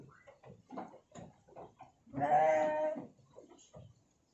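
A sheep in a farm pen gives one loud, wavering bleat lasting about a second, close by, with people talking quietly before and after it.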